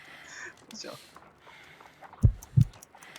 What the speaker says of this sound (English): I need to concentrate and count the heartbeats.